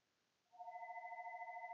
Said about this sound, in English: my phone's going off again like it has all morning long.